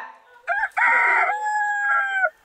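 A rooster hidden indoors gives a loud, close crow that starts with a short cluck-like note and then holds a long, strained call.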